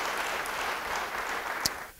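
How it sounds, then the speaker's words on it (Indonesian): A church congregation claps together in steady, dense applause, a broad even wash of hand claps at close range that holds throughout and thins slightly at the end. "Beri tepuk tangan bagi dia."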